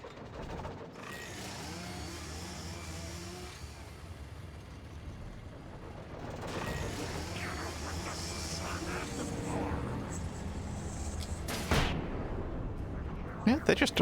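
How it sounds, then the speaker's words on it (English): Flashbang grenades go off in the video game Alan Wake, heavy booming blasts over a rumbling game soundscape, with one sharp bright crack near the end and a few smaller hits after it. "how about we, for once, bring out the flashbangs?"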